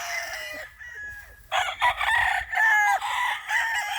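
A rooster crows repeatedly nearby on a cool mountain farm, long strained calls rising and falling, with hens clucking in the background.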